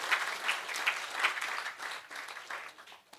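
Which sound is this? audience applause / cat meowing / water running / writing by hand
audience applause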